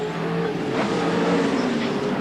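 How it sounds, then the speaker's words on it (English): A 1996 Australian Touring Car Championship racer at Sandown roars as it climbs through the gears, a loud, steady engine drone with rising pitch as it builds speed. "feeding it gears as they head up toward the back straight once again, building up a lot of speed"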